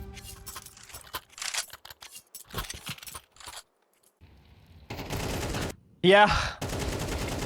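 Bursts of gunfire from a Counter-Strike match, with short rapid volleys breaking through commentator talk, then a loud sustained spray and a sharp close shot near the end.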